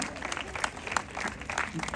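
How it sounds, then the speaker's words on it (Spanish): Steady applause from a TV studio audience, clapping filling the room at moderate volume. "Un aplauso para Octavio"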